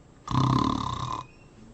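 A person imitates a single drawn-out snore, a rough rattling breath close to the listener, after a moment of quiet.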